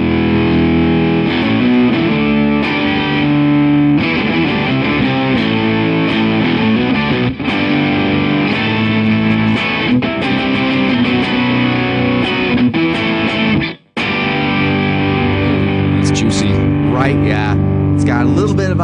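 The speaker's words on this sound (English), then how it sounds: "octave and distortion combo." Electric guitar played through an octave and distortion combo pedal, heavy fuzzy chords and riffs with a thick low octave layer, loud and sustained with a brief dropout near the end.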